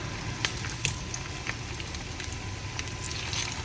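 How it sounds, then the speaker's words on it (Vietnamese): Taro rolls fry in a pan of oil over moderate heat, giving a steady close sizzle with scattered sharp crackles and pops and no voices. "Bây giờ em sẽ bắt đầu chiên"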